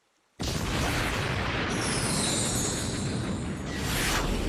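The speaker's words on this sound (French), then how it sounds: "L'explosion stellaire de Pegasus!" A loud, sustained cartoon explosion blast from a Beyblade battle special move bursts in suddenly and roars steadily for several seconds, with a whooshing, crackling hiss layered on top.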